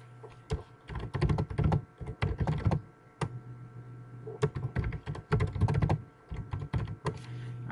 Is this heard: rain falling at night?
no